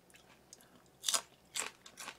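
Giant conch and onion being chewed up close, a few crisp crunchy bites with wet mouth sounds between, quiet and intermittent without talk.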